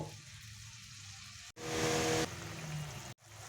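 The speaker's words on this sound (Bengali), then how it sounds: "ঝোলটা ফুটে গেছে" Rui fish curry gravy bubbling in a pan, a steady close sizzling boil that swells louder midway, with brief breaks where the sound cuts out.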